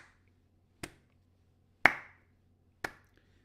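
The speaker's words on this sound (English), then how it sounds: "Slow clapping." Three slow, deliberate hand claps spaced about a second apart, sharp and close in a quiet room, each ringing briefly before silence.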